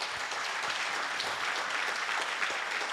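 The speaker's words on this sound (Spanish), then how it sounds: "Démosle un fuerte aplauso al Señor." A church congregation breaks into strong, even applause during a service, the dense clapping of many hands filling the hall without letup.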